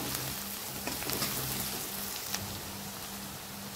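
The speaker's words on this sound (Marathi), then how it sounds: "आता यात घालूया लसणाची पेस्ट। ती 1-2 मिनिट छान भाजून घेऊया तेलामध्ये।" Garlic paste fries in hot oil for a vada sambar, a steady close sizzle with soft crackling pops and no talking.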